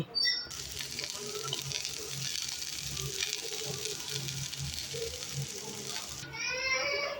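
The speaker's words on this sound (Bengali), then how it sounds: "তা আলুটা আগে ভেজে নিয়ে" Loud, continuous sizzling of potatoes frying in a pan, steady throughout with brief quieter moments at the start and end.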